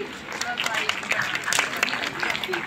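Audience applause at an award ceremony for Jhansi toppers: scattered, moderately loud clapping under someone speaking.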